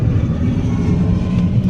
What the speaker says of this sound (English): All of the planes are flying like directly over me.